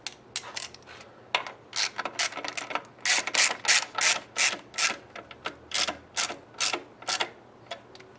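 Self-locking nuts being tightened onto bolts during a Subaru EJ25 boxer engine install in a 2006 Forester: repeated rhythmic ratcheting and scraping strokes, close and fairly loud, with no talk.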